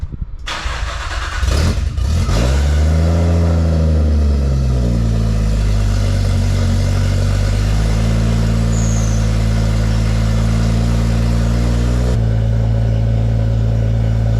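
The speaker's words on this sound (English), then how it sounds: "We'll give this another crank and see if it fires up." A Nissan C33 Laurel engine cranks, catches and starts, then revs up and settles into a steady loud idle, running on its own with no talking.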